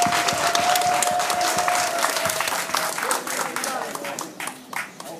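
Crowd applause at an outdoor political rally in Ndjolé, Gabon: dense, close clapping that starts strong, then thins and tapers off over a few seconds.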